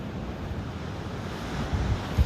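Ocean surf rolls in steadily at a beach where surfers are out, a low continuous wash of waves with wind buffeting the microphone and a slightly stronger wave near the end.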